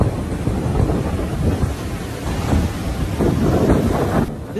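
Severe Tropical Cyclone Dovi lashing New Zealand with howling winds and heavy rain, a loud continuous roar of wind buffeting the microphone over dense rainfall, steady throughout with no voices.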